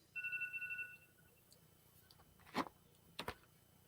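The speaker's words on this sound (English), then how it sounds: "I think I hear my phone" A phone rings off to the side, a short two-tone electronic trill near the start followed by a couple of faint clicks and thumps.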